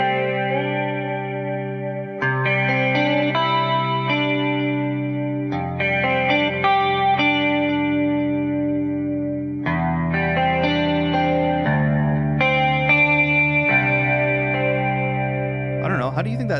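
An electric guitar plays sustained chords through an amp, pedal and cab effect with distortion, chorus and reverb, each chord ringing out and changing every couple of seconds.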